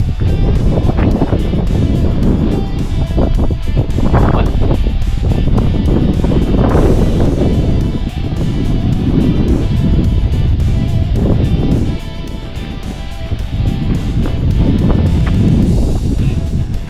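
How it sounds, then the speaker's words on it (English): Wind on a hiking trail in New Brunswick, a loud, steady roar buffeting the microphone for the whole stretch, with gusts swelling and dropping, no voices. "Windy."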